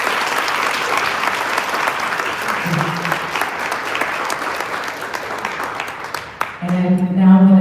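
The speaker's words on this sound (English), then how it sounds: "This is applause." An audience at a Women Rising celebration at the Shabazz Center claps steadily in a dense, loud wash of applause that carries on throughout, with a voice starting up over it at the very end.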